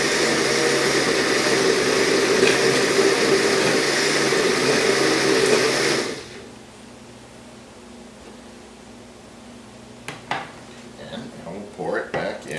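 A loud blender blends tomato soup, whirring steadily for about six seconds, then stops, leaving quiet room tone with a few clinks of dishes and utensils.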